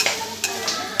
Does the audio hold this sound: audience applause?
no